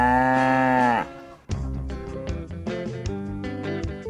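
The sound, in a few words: cow mooing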